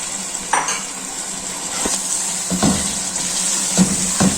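Chopped bottle gourd goes into a hot pan for a lentil curry, with steady sizzling and a few scraping stirs and clinks of a spoon against the pan, close and fairly loud.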